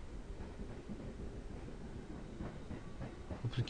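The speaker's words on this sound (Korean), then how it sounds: "무슨 기차가 저래?" A train passes in an RPG Maker video game as a faint, continuous rumble with rhythmic clickety-clack and a hissy rolling texture, swelling slightly toward the end, with no voices.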